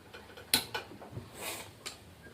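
A few sharp clicks of a gas stove igniter, close and irregular, separated by quiet gaps.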